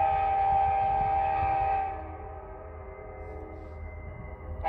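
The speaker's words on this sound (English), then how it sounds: "Here comes the train." A long train rumbles past in Nenana with a loud, sustained horn blast that cuts off partway, leaving the rolling rail noise continuing nearby.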